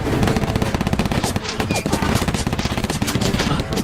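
Rapid machine-gun bursts rattle loud and close throughout a battle, with dense overlapping gunfire that barely pauses.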